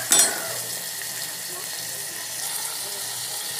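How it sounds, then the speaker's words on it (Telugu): A large tomato sautés in a hot pan for a dry fish curry, beginning with a sharp burst of sizzle as it hits the oil, then settling into a soft, steady frying crackle. "ఒక పెద్ద టమాటా ఒకటైతే వేసుకుంటున్నాను. కూడా బాగా వాడ్చుకుందాం."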